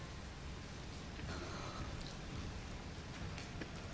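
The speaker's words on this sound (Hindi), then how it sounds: "बारिश तो बहुत ही तेज आ रही है बाहर, मौसम खराब है।" Heavy rain falls outside in the Resident Evil Requiem video game, a dense, even hiss of downpour that stays steady at low volume for a few seconds.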